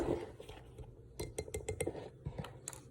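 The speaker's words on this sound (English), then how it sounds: "We're stirring that all together." A spoon clinks and scrapes against a mug while stirring chocolate cake batter, several quick close taps in an uneven rhythm with soft mixing sounds between them.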